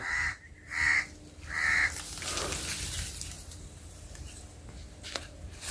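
A crow caws outdoors among plants during spiny gourd picking. Three sharp, close caws come in quick succession at the start, followed by soft rustling and handling noise.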